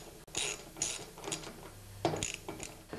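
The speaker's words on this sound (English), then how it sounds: "I'll grab a 1/2-inch socket and tighten up the bolts." A 1/2-inch socket wrench tightens bolts on a Toro snowblower auger bushing, with repeated short bursts of close ratchet clicking separated by brief pauses.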